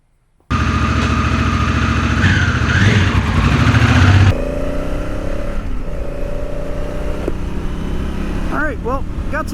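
A motorcycle on a cold day near Philadelphia, heard up close as a loud engine roar that revs for a few seconds, then drops to a steadier running hum, with traffic noise around it.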